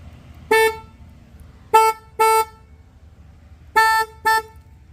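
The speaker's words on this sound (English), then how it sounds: "there's another horn underneath here. That's the one that's honking." Car horn on a Kia Forte sounds in five short, loud honks: a lone toot, a quick pair, a pause, then another pair, with no talk over it.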